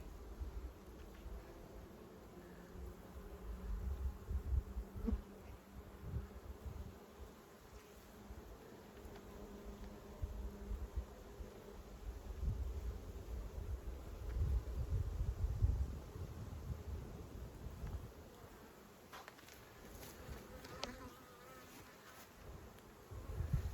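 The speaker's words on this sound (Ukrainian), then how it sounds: "бджоли мед несуть." Many bees hum in a steady, dense buzz close by at a hive in an apiary, with light wind rustling in the background and no voices.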